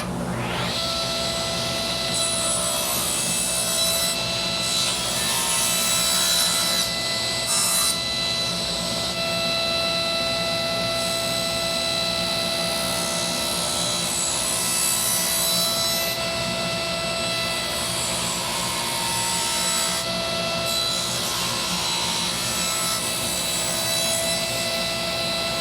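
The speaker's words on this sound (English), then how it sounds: "I will cut the miter on this miter gauge, and I'll cut the left side using this miter gauge" A table saw fitted with a miter gauge cutting miters in wooden frame rails for a wood shop extension wing, a loud steady whining hum with the pitch shifting briefly as the blade bites through the wood, and no talking.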